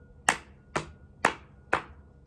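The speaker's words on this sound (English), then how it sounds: "just go clap and then go into your thighs" Four sharp body-percussion hits evenly spaced about half a second apart, a hand clap followed by slaps on the thighs, close and crisp with quick decay, used as a rhythm for learning the Hawaiian alphabet.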